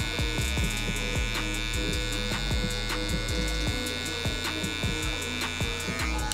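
Electric hair clippers fitted with a one guard fade hair in a barbershop, a steady close buzzing hum with irregular clicks and bumps as the blade passes through hair.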